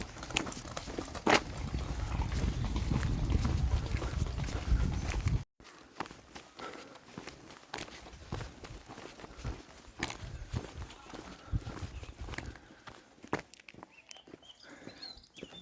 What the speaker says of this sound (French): Ah, encore la Guardia Civile à cheval.